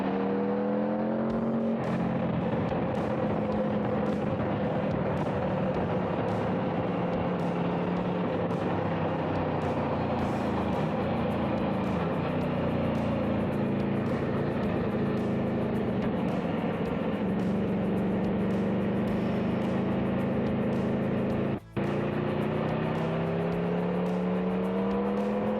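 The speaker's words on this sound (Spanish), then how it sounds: "el bramido de esta moto cuando arrancamos" An Aprilia RSV4 Factory 2023 sport motorcycle roars continuously while riding, its engine note sweeping up and down through the gears, loud and close for the whole stretch.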